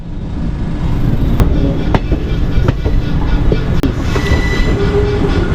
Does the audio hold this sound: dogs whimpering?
no